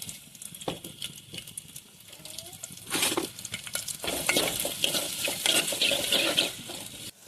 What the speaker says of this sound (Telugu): ఇవి వేసుకొని కాసంత ఫ్రై అయ్యే వరకు వేయించుకోవాలి